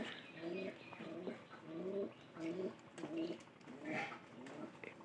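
A sick pigeon with a cold coos in repeated, steady phrases of low, throaty notes, close and moderately loud, with no talk over it.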